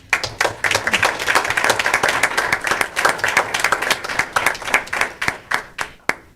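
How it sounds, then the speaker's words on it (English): Applause rings out at an evening board meeting, a steady round of clapping from the assembled audience that builds quickly, holds dense and lively, then thins into scattered final claps. "If we could give them a round of applause."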